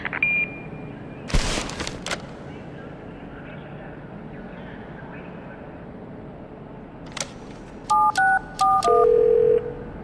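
An answering machine in the video game The Darkness plays its tones: a brief beep, a crackling burst, then a run of short electronic phone tones and a long steady beep near the end, all fairly close and clear.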